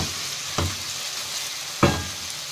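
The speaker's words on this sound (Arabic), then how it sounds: "احنا كده شوحنا البصله" Onions sauté in a pan for a potato tray bake, a steady close sizzle broken by two soft scraping stirs.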